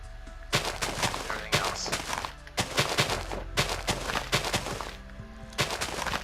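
Repeated Minecraft explosions in a game world, sharp blasts going off one after another in irregular bursts, loud and close, with a brief word spoken among them.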